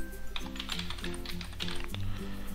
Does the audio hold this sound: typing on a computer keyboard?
yes